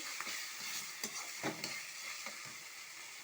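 Fish curry sizzles in mustard oil while a spoon stirs it, a soft crackling hiss broken by several scraping stirs close up, with no voices.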